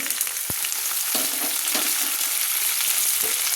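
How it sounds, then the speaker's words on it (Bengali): Chopped coconut and potato fry in hot oil with tempering spices for a chana dal, giving a steady close sizzle broken by sharp scrapes and clinks as a utensil stirs the pan. "তো আমি নারকেলগুলো তেলের মধ্যে দিয়ে, আলু ও তেলের মধ্যে দিয়ে, ফোড়নের মধ্যে দিয়ে একটু আমি নেড়ে নিচ্ছি।"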